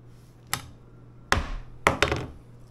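A knife cuts the ends off green onions on a cutting board, giving four sharp, separate chops spaced irregularly and heard close in a quiet room.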